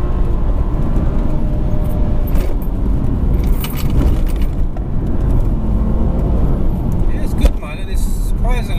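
A BMW 335d pulls hard through the gears, its diesel engine drone and road rumble steady and close from inside the cabin, continuous under people talking.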